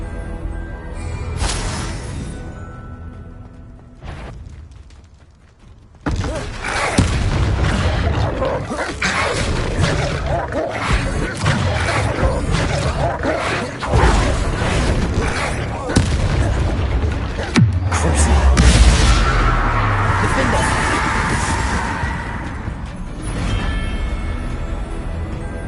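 Bombarda spell explosions in Hogwarts Legacy boom and crash heavily through a long stretch of combat, with booming blasts, clattering debris and spell effects layered together and a voice speaking over part of it.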